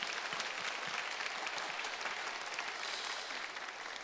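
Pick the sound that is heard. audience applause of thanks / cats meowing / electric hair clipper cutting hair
audience applause of thanks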